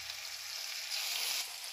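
Ginger garlic and chilli paste frying in a pan gives a steady, close hissing sizzle, swelling slightly midway, with no talk.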